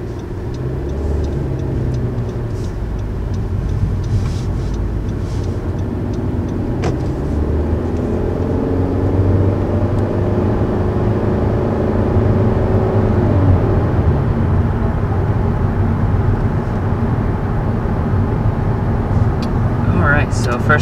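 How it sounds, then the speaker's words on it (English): Interior engine and road noise from a 2019 Honda Civic hatchback pulling away and building speed, a steady low drone with rising tones swelling midway; a voice talks over it throughout. "So first taking off and getting up to speed in the 2019 Civic hatchback."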